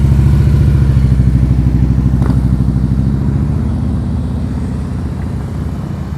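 A motorcycle ridden at slow speed during advanced slow-speed riding practice, its engine a steady close low rumble with a faint clatter, easing slightly quieter toward the end.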